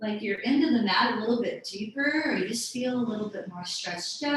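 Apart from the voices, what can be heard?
No distinct noise like a dog, phone or traffic.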